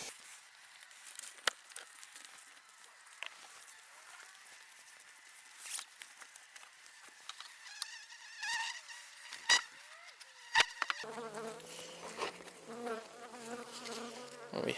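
Honeybees buzzing loudly around an opened hive entrance after smoking, a dense close drone with individual bees whining past the microphone and occasional knocks and handling noises.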